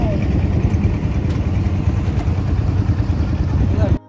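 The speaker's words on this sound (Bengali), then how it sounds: "উঠার পরপরই নৌকার মাঝি ইঞ্জিন চালু করলে বিলের বুকে শুরু হয় নৌকা ভ্রমণ।" A boat's motor runs on Halti Beel, a monsoon wetland lake in Natore, with a steady, close, low throbbing drone for about four seconds that cuts off abruptly at the end.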